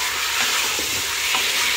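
Chicken pieces fry and get stirred in a pot with black peppercorns, a steady sizzle running throughout with faint scraping from the stirring, close and continuous, no voices.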